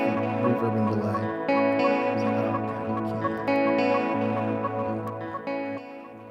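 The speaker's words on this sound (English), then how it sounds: "I guess this is the version with the reverb and delay." An Empress ZOIA modular pedal patch with reverb and delay runs through a guitar-like tone, giving repeating echoed notes and washed-out sustained layers with periodic rhythmic pulses, steady and moderately loud for several seconds.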